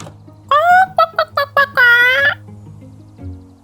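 A burst of loud, close clucking from a flock of chickens in Minecraft, as several short choppy calls followed by a longer warbling one, over a low background hum.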